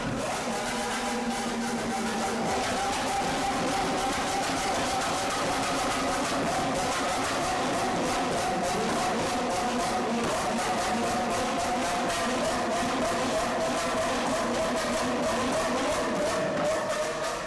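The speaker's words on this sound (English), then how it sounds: "Epic convoy through the Monaco tunnels with some insanely loud supercars, and this Aventador just flamed consistently" Lamborghini Aventador and other supercars, including a Capristo Ferrari 430 Scuderia, roar in a convoy through a Monaco tunnel, a dense continuous engine din echoing loudly throughout with steady revving and no pauses.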